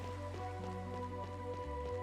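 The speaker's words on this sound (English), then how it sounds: "In a place where the rain never stops." Soft, constant patter of rain falling in the video game Chained Echoes, set in a town where the rain never stops, heard faintly beneath steady tonal game music.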